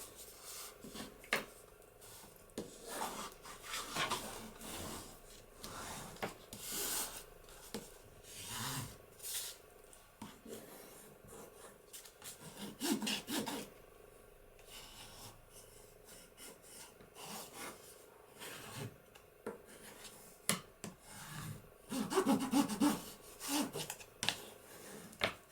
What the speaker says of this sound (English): I'm going to burnish that down.